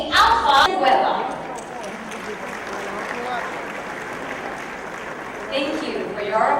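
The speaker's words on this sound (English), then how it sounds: "Thank you for your applause." Audience at the Asia CEO Awards 2014 claps in a short burst, loud at first then fading to a low murmur before a brief rise again, with a voice over the room.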